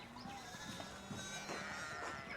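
Sheep bleat in a medieval village scene in the game Pentiment, several wavering calls overlapping over a quiet background, with no talk.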